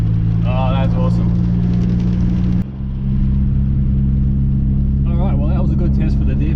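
A Nissan Navara with a VG30 engine doing a third gear burnout drones loudly and steadily, a heavy low engine roar with someone talking over it near the start and again toward the end.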